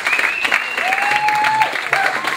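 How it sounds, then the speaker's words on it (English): Applause from the audience at a dance fundraising event as the dancers leave the floor, a steady round of clapping with voices calling out over it. "Keep that round of applause going, ladies and gentlemen, as they leave the floor."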